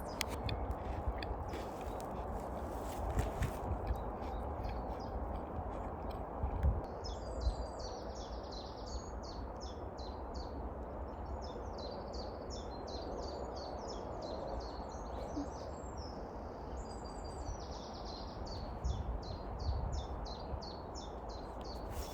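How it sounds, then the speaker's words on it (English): Small birds chirp and twitter in quick repeated phrases at a wild camping spot in the UK, against a steady low background rumble, fairly faint and continuous through the scene. "the noises that the birds are making right now, so cute"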